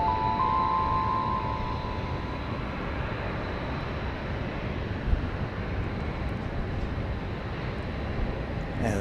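A plane touches down on runway 31 left at Dallas Love Field, heard as a steady distant jet roar with wind rumble that holds for several seconds.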